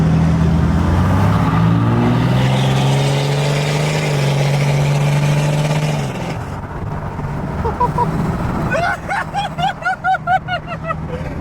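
A Cummins diesel truck engine runs loud and steady with a deep drone, then its note shifts and fades as it pulls away, and voices chatter over the tail end.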